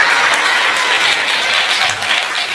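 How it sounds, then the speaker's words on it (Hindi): A live audience at a Hindi kavi sammelan poetry gathering bursts into sustained applause, a dense, loud wash of many hands clapping that holds steady for the full stretch and only slightly thins near the end. "आप लोग तालियां पीटते हैं,"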